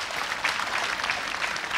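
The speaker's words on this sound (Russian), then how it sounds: "Молодец, аплодисменты команде Олега" Steady applause from a TV game show studio audience, a dense wash of clapping holding at an even level for a couple of seconds.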